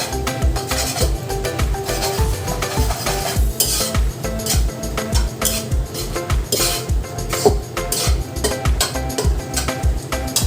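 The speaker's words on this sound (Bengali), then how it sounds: "একদম হালকা করে ভেজে নিচ্ছি।" A utensil scrapes and taps rhythmically against a pan while eggs fry lightly in oil, a quick steady clatter of metal over a faint sizzle, close by with no talking.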